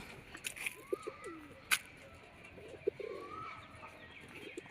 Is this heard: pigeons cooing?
yes